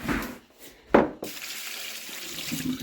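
Hot water poured out of a jar, a short splashing pour that rises sharply, then fades into a softer trickle and a faint wash.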